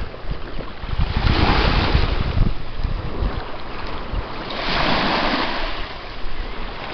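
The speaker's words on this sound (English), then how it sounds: "I'm gonna shut up for a second so you guys can hear the ocean." Ocean waves wash onto a beach near a grandmother's house, a steady broadband roar that swells into two louder surges, with wind buffeting the microphone throughout and no talking.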